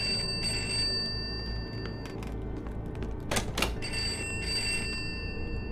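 An old-style bell telephone rings inside a house in the horror video game Pineview Drive, two bursts of bright trilling rings separated by a pause, with a couple of sharp knocks between them over a low steady room hum.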